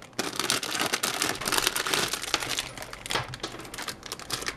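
A plastic blind-bag packet of DeAgostini Magic fairy figures is torn open and crinkled up close, giving dense, continuous rustling and crackling bursts with no talk.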